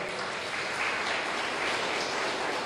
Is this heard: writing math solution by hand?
no